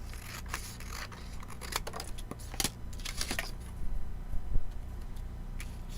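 Scissors snipping paper while assembling a Halloween mini pocket page album at a craft table, a few short crisp cuts scattered through a quiet room with faint background hum.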